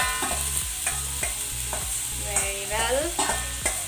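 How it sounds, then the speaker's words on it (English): Potatoes frying in oil in a pan, with a steady loud sizzle broken by regular rhythmic scraping strokes of stirring, close up, and a brief spoken remark near the end. "Now I'm gonna put it in sim flame and fry it."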